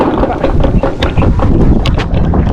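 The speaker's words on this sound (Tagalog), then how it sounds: "Lakas kasi ng hangin." Loud, gusting wind buffets the microphone with a constant rumbling roar, close and unbroken, with faint voices underneath.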